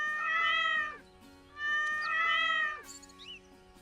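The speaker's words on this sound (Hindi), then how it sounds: "अगले दिन सुबह बिल्लियों के चिल्लाने के बावजूद भी कूपर की नींद नहीं खुलती है।" Cats in an animated Hindi fairy-tale story give two long, loud, drawn-out meows, then a shorter yowl, each close and clear with brief pauses between.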